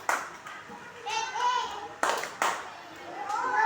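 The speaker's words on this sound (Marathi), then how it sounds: "एका मुलाने टाळ्या वाजवायच्या आणि दुसऱ्या मुलाने किती टाळ्या वाजवल्या तो अंक सांगायचा" A child claps hands for a classroom number-counting game: a few sharp, close claps with gaps between them, mixed with children's and a teacher's voices.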